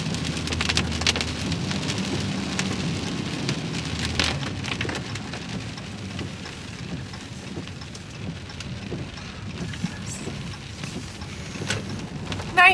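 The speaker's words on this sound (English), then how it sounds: "it is raining and wet" Steady rain falls and patters on surfaces at a muddy outdoor event in Tallahassee, a continuous hiss lasting the whole clip with occasional louder drips and bumps.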